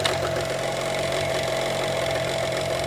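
A used outboard motor runs steadily in gear, a close, even mid-pitched hum with a faint rhythmic knock and no grinding, continuing alone without voices.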